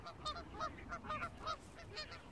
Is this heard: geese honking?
yes